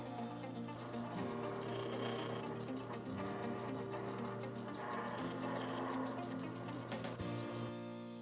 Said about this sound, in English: you will turn the switch in the up position to wind the cable onto the spool